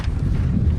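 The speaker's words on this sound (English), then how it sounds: "The wind is picking up" A brief gust of wind rumbling across an outdoor microphone, a loud low buffeting roar that stays steady for under a second.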